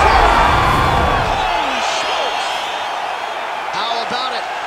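A crowd roars and cheers after a TKO in the EA UFC 5 video game, a loud burst at the start that eases into a steady, fading arena swell, with whoops rising in the background.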